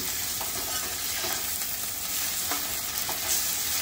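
Ginger-garlic paste frying with onions in a pan for a chicken dish, a steady close sizzle with occasional soft stirring scrapes, no voices.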